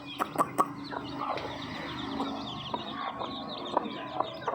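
A hen that has been pecking its chicks clucks softly in a farmyard, with short scattered calls and a few sharper squawks spread over a low, steady background.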